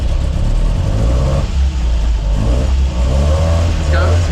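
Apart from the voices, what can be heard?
Land Rover engine revving off-road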